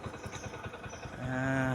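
A TBS King motorcycle engine putters with a rapid uneven beat, then revs into a steadier higher drone as it climbs uphill, fairly faint amid outdoor ambience.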